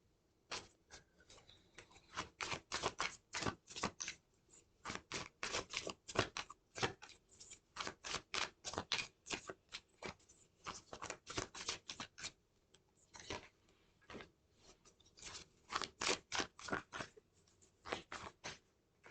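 Watcher Angel Tarot cards being shuffled, producing quick rhythmic flutters of card riffles and taps in rapid bursts, close and fairly quiet, with no talking.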